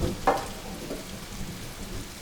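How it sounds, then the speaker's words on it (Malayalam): Steady rain hisses in a continuous wash of noise, with a faint low rumble and no voices. "ഈ മഴ കുറേ ലക്ഷണമില്ല കേട്ടോ"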